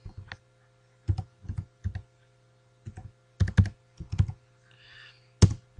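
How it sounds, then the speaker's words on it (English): Computer keyboard typing in short bursts of clustered keystrokes separated by brief pauses, close and clear in a quiet room. "Then I'm going to type"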